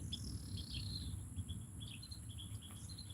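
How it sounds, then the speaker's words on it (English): Faint high chirps and short bird calls scattered over a steady insect drone and low rumble outdoors, fairly distant and quiet, with a car occasionally passing. "listening to the birds."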